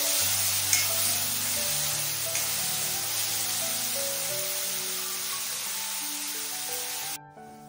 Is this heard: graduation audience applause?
no